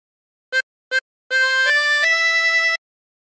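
Solo harmonica phrase from There's a River of Life: two quick short notes, then a longer legato run of three connected held notes, clean and close.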